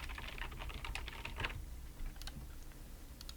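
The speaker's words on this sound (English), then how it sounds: "I'm going to type in my company" Quiet clatter of a computer keyboard as text is typed into AutoCAD, a quick run of soft keystrokes followed by a pause, then a few more isolated taps.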